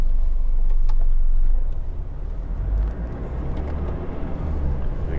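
Toyota 70 Series with a 2.8L engine and automatic gearbox driving in second gear as the torque converter locks up, a steady low engine drone with road noise that eases slightly partway through, heard from inside the vehicle.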